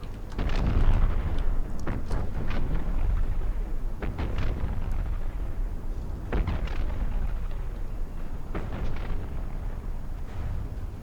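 Cram shells bursting in a 1915-era naval battle in a video game, a steady stream of dull distant detonations and booming impacts at irregular intervals over a continuous low rumble, with no voices.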